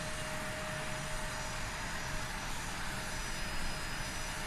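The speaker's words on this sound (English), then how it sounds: "It kind of helps because you can hear the engine, right?" An Airbus A320 jet engine in Microsoft Flight Simulator, the Fenix model, gives a steady broadband roar with a thin constant whine on top, even and moderately loud throughout with no speech.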